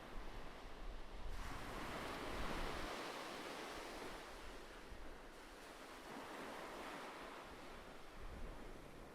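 Steady ocean surf washing ashore in a continuous broadband roar, swelling and easing gently with a soft wind rumble underneath, alone with no voices.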